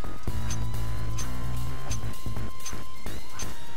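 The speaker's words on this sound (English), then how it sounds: "So let's go ahead and break some glass," Glass being smashed in the heist video game Payday 2, a series of sharp crashes and shattering impacts at regular intervals over a loud, steady game background.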